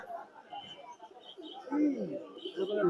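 Pigeons coo in low, soft, rolling bursts at the Mirpur pigeon market, rising toward the end amid surrounding voices and market chatter.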